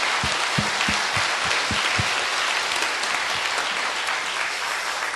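Dense, steady applause from a church audience at a talk concert in Andong, a wash of many hands clapping at a loud, even level throughout, with a few distinct low thumps near the start.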